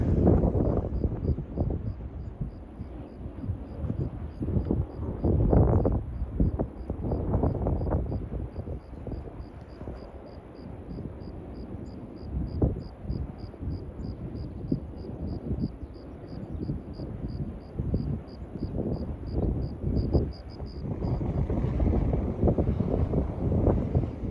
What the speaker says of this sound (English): I think it's getting windy again, so I may mute it again.